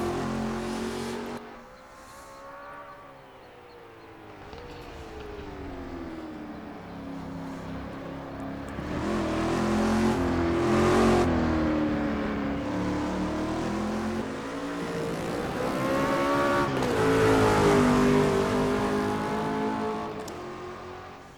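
A McLaren F1 in the racing game Automobilista brakes and accelerates on a short track, its engine note rising and falling steadily through gear changes over about twenty seconds, loud and continuous with no talk.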